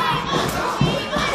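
A capacity crowd of about a thousand packs a high school gym for a wrestling event, a dense continuous roar of cheering and shouting that stays loud and close throughout.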